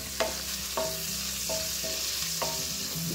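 Dried red chillies and curry leaves crackle in hot oil for a channa sundal, with steady sizzling and several sharp stirring clinks from a spoon against the pan, spaced a second or so apart.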